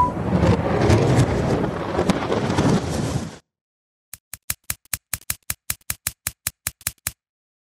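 A thunder sound effect for lightning in an animation: a loud, rumbling crash of broadband noise lasts about three seconds and stops abruptly. After a brief silence, a series of sharp, evenly spaced ticks follows.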